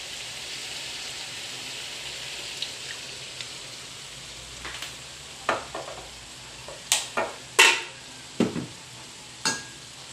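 Adobo sizzles in a frying pan after soy sauce is added, a soft steady hiss broken by several sharp stirring scrapes and clanks that grow more frequent toward the end, with no talk.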